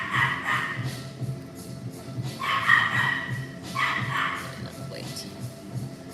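Morkie puppies in a litter yip and bark in short bursts of high-pitched yelps, a few close cries repeating every second or so, while a person talks steadily beneath them.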